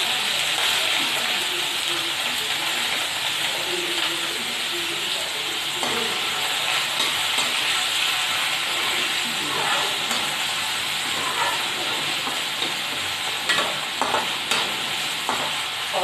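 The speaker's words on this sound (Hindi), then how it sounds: "और इस तरह से अब प्याज को भुनने देंगे।" Chopped onions and green chilies fry in oil in a pan for Indori poha, a steady close sizzle with occasional stirring scrapes and clinks throughout.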